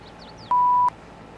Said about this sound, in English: Just play a beep sound.